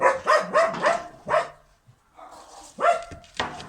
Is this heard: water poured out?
no